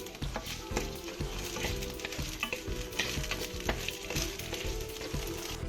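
Four green chilies sizzle and fry in a hot pan with other ingredients for Kerala pappada chammanthi, a steady close crackle with repeated stirring scrapes throughout.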